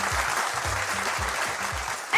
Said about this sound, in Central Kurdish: چەپڵەیەک